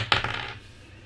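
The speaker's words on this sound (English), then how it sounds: "Let's roll a dice and shuffle them up." Dice are rolled, with a quick clatter of a few bouncing hits that settle and fade within a second. No voices are heard.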